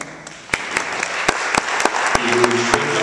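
Scattered applause from a small audience greets a speaker at the Colorado State Capitol, with sharp individual claps at irregular intervals building into thicker clapping toward the end, while a low tone hums underneath.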